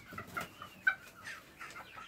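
A white serama rooster courting, clucking and making soft low calls close by, a series of short bursts with one sharper note, alongside faint chirping birds.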